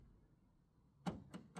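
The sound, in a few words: TVG Electrolock on a Mercedes Sprinter van door locking itself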